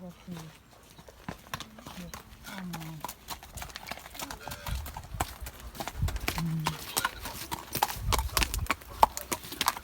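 Horse hooves clip-clopping along a town street where horses are kept for riding tours of the town, a steady close rhythm of hoof strikes under continuous talking, with a faint whinny now and then.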